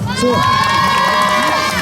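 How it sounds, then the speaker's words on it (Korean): Loud, continuous crowd cheering and shouting fills an outdoor street dance show in Hongdae, Seoul, with high excited voices blending into a steady roar from start to finish. "자 멤버들에게도 박수 한 번 주세요."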